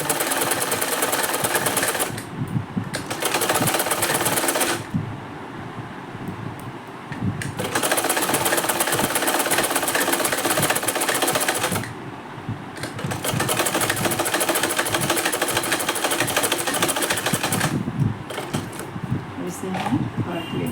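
A household sewing machine stitches a blouse, running a little noisy after long disuse: loud, rapid mechanical chattering in several bursts of a few seconds each, separated by short pauses, with someone talking now and then.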